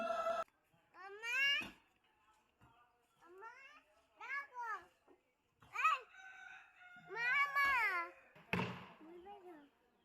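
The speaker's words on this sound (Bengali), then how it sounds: "আর দুইটা বিড়াল মানে খুব ঝগড়া করছিল" Two cats yowl and screech at each other in drawn-out, wavering wails, close and fairly loud, with short quiet gaps between the outbursts.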